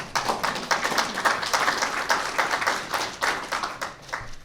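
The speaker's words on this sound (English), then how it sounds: "And yeah, you can clap for that too." Audience at a Bronzeville development announcement clapping together, a fairly close, lively burst of hand claps with uneven swells that carries on for several seconds.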